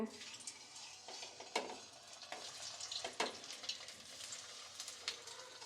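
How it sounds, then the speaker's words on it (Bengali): Chhana and spinach koftas frying in hot oil, a close, steady bubbling sizzle with occasional clinks and scrapes of a utensil against the pan. "বাকি কোপ্তাগুলো একইভাবে ভেজে নেব।"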